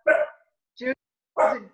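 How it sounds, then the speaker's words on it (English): A dog barking during an online meeting: three separate barks, each short and fairly loud, spaced apart with silence between them. "your dog barking?"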